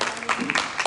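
A church congregation claps together in a short burst of scattered applause, fairly soft and mixed with voices.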